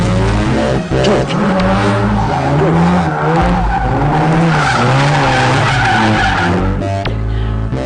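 A rotary-powered drift car slides with loud, sustained tire squeal over a roaring, revving engine that rises and falls, close and intense throughout.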